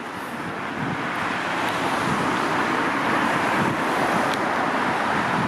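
Busy urban street traffic along Gerrard Street East in Scarborough, Toronto, a steady loud rumble of cars and other vehicles passing close by, with some wind buffeting the microphone and no talking.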